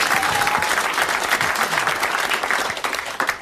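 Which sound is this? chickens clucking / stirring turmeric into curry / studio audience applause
studio audience applause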